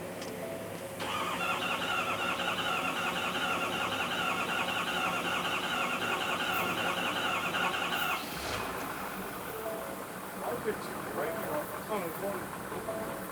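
A Ford F250 with a 6.7L diesel engine, run on a tank contaminated with DEF fluid, fires up after a brief crank and settles into a steady, even idle before the sound drops and shifts near the end.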